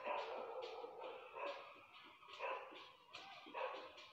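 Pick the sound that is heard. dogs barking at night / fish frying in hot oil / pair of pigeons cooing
dogs barking at night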